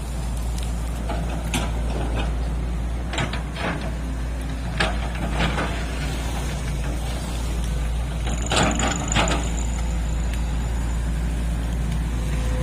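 XCMG XE135C backhoe excavator fitted with welded-on SK200 bucket teeth, one broken off leaving four, working beside a forest roadside: a steady low diesel engine drone with intermittent clanks and hydraulic knocks, continuous and fairly close.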